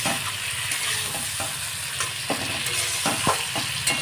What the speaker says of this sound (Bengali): এবারে আমি 5 মিনিট মশলার সাথে পটল আলুটা কষিয়ে নেব